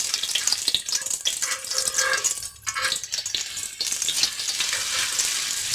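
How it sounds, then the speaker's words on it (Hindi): Chilli cheese bread toast fries on a hot griddle, giving a loud, steady crackling sizzle close up with a brief dip partway through. "अब हम इसे तवे के ऊपर डाल देंगे। अब हम इसकी साइड बदल लेंगे।"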